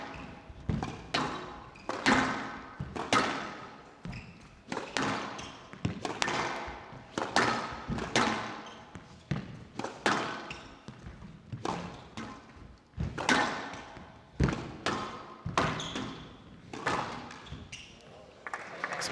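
A squash ball in a fifth-game professional match at the 2018 British Open cracks off rackets and thuds against the court walls in rapid, irregular bursts, heard under steady commentary talk.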